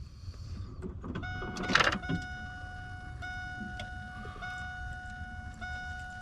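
Ignition switched on in a long-stored old car, a brief clunk followed by the electric fuel pump priming with a steady, thin whining hum that continues for several seconds at moderate, close level.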